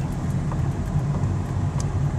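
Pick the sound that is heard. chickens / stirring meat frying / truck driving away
truck driving away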